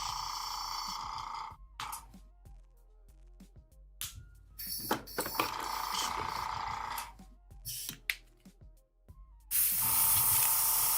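An airbrush spraying paint on miniatures gives bursts of steady close hiss, separated by quiet gaps and small clicks of handling, with one long burst at the start and another at the end.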